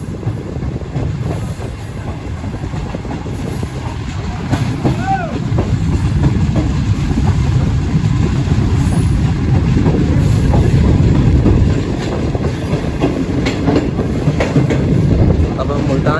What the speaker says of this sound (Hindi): गुड्स ट्रेन लग रही है वो।